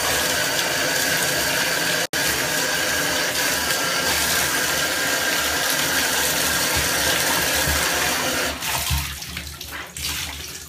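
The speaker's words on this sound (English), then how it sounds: "I'm going to go ahead and let this dirty water out." Dirty wash water drains out of a bathtub after soaking white baseball pants, a steady loud rushing gurgle close by that thins and becomes more sputtery near the end, with a brief click early on.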